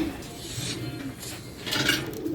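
Pigeons at a village farm, soft cooing and rustling close by, with faint rasping noises mixed in and no talking.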